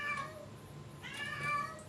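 A domestic cat meows twice, short high-pitched calls at the start and again near the end, close and clear over a quiet indoor room with no talking.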